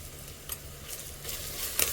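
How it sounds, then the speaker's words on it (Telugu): Spices with ginger-garlic paste and turmeric fry in hot oil in a pan for okra pulusu, a soft steady sizzle with faint scraping stirs, close and quiet without talk. "పచ్చి వాసన పోయే వరకు కలపాలి. ఇప్పుడు దీంట్లో 1 టీ స్పూను పసుపు వేయాలి."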